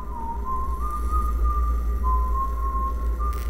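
Someone whistles a steady, wavering tune over a loud low hum and background rumble during a ghost-hunting game, continuous throughout.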